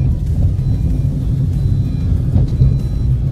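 A car engine pulling steadily in third gear on a straight stretch, a continuous low rumble with no clear rises or drops, close and fairly loud throughout.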